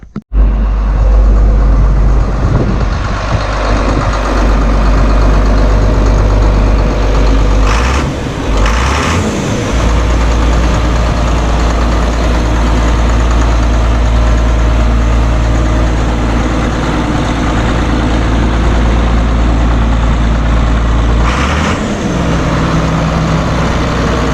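John Deere 4850 tractor engine idling, a steady loud low diesel rumble that runs throughout with only slight changes in tone.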